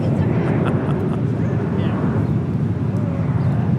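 An American Airlines Boeing 777-300ER departs LAX from the south side, bound for London, with a steady broad jet roar that holds loud and constant throughout, and a voice talks over it.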